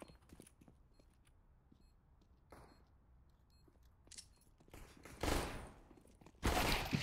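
Burst gunfire in Counter-Strike during a competitive ESEA semi-final match, with two loud rapid bursts late in the clip following scattered quieter shots and clicks.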